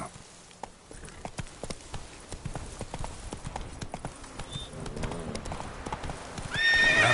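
Horse hoofbeats clip-clop in a fast rhythm as the mount Roach gallops in the video game Witcher 3, ending with a loud neigh near the close.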